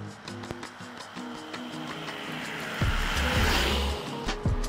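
A small car driving uphill through tight spaces, engine droning with shifting tones and a deeper rumble building midway, close and steady with no talking.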